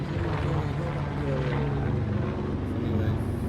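A helicopter drones steadily overhead with a low rotor rumble, and voices talk faintly beneath the engine noise.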